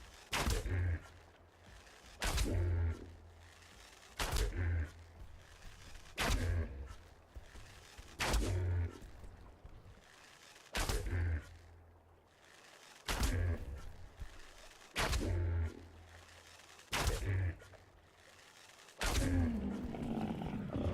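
Gunshots in Ark Survival Evolved, ten sharp loud shots fired one at a time at a steady pace of about one every two seconds, each followed by a short booming tail, with ambient game noise underneath.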